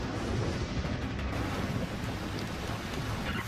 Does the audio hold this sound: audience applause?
no